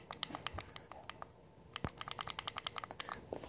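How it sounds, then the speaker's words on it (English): Buttons on a Vaporshark rDNA 40 vape mod are pressed repeatedly, giving a quick, irregular run of sharp, close clicks in a quiet room. "These buttons are extremely clicky"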